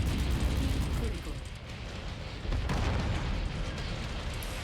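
AC-20 autocannon firing from a mech in Mechwarrior 5 Mercenaries: heavy, rumbling low booms with mechanical clatter, loud and close, in a short burst under a voice talking.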